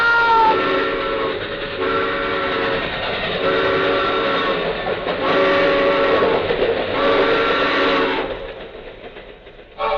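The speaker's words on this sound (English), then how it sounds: "The train! Look out!" A radio drama train effect: a locomotive approaching with a sustained, loud whistle in repeated long blasts over rumbling wheels, ending with a sudden sharp hit.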